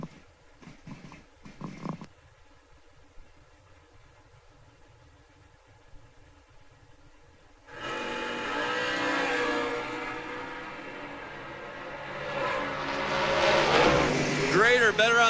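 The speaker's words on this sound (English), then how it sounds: "That's the Roadster, 376 inches at Chrysler. Sounds like one of those NASCAR motors." A 376-cubic-inch Chrysler-engined roadster drag car at a drag strip idles faintly under an announcer's voice, then its engine launches into a loud, sustained roar that builds toward the end.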